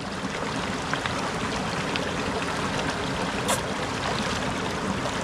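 Cold snow-runoff water flowing down a mountain stream, a steady close rush and trickle that holds even throughout, with no voices.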